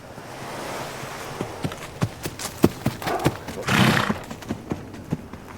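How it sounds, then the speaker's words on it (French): Horse hooves clip-clop at a steady walking pace by the sea, with wind and surf washing in the background and a brief whinny partway through. "faisant tranquillement avancer leurs chevaux tout en admirant la mer"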